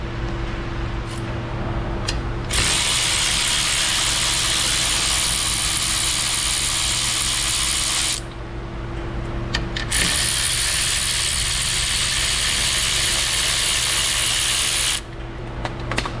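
Ratchet or air tool spinning out the two lower 13 mm bolts beneath a GMC Savana 2500 van: two long, steady, bright mechanical whirs of about six seconds each, with a short pause between them, close and loud.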